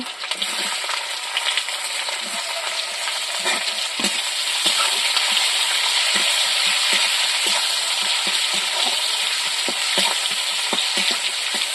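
Chopped onion fries with green chilies in a pan, a constant close hiss of oil punctuated by repeated metallic taps and scrapes from stirring, with no speech.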